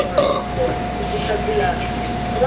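One long, rumbling burp rolls on for a couple of seconds, close and loud over a steady background drone.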